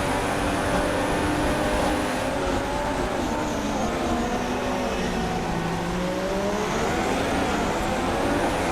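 Formula One cars in the F1 2016 video game roar continuously at close range, with engine pitch rising and falling as they race and a faint tire squeal running under the steady din.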